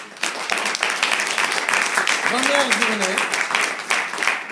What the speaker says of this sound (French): on applaudit très très très fort